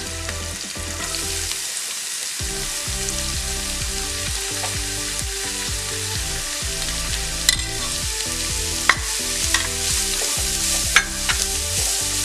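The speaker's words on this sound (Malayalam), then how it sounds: "അതിലേക്ക് ചെറുതായി അരിഞ്ഞ സവാള ഇട്ട് കൊടുക്കാം" Finely chopped onion and green chillies fry in hot oil with a steady, close sizzle, and a few sharp clinks of stirring break through near the middle and end.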